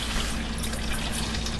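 Water gushes steadily from a measuring cup over fruit and prunes in a large pot, a continuous, close, full splashing pour without talking.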